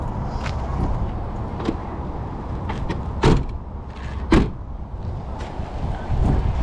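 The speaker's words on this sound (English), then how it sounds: "It is a power door." Power sliding door on a UVan Ü-Savage Class B camper van rolls along its track with a low motor hum. Two sharp clunks mark it starting and latching.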